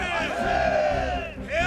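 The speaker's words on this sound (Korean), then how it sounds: "대한민국의 하늘엔 피 끓는 만세 소리가 울려 퍼졌다." Massed crowd of people crying out manse in unison during the March 1919 Korean independence movement, a loud sustained roar of many voices swelling together, dipping briefly near the end and rising again.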